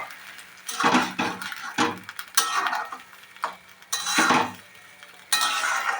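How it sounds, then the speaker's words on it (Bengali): A metal spatula scrapes and clinks against a pan as raw mango is stirred and fried for a spiced pickle. The strokes come in irregular repeated bursts, close and moderately loud. "বন্ধুরা কাঁচা আমটা দিয়ে এইভাবে কষতে থাকবেন।"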